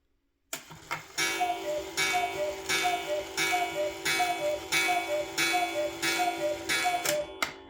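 A count wheel cuckoo clock movement ticks in a steady, even rhythm, close and clear, after a sharp start, with a slight ringing tone under each beat.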